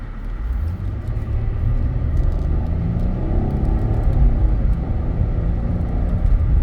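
A 2004 Mercedes-Benz W211 E320 with 228k miles drives at about half throttle, producing a smooth, steady low engine and road rumble heard from inside the cabin, continuous and moderately loud with no talking.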